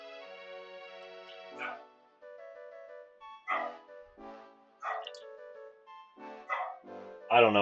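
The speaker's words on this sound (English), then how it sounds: "that's my dog in the other room, barking up a storm at absolutely nothing" A dog barks in another room, a string of sharp barks and yips in irregular bursts, somewhat muffled and distant, with quiet gaps between volleys and no talking.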